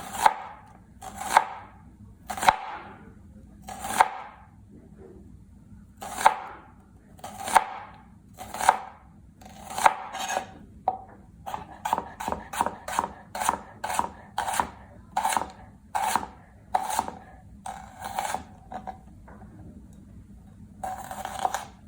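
A knife slices thin strips of vegetables for a big batch of spicy green coleslaw. Crisp, even cuts hit the board one after another, slow at first and then faster and closer together, near and clear with no talking.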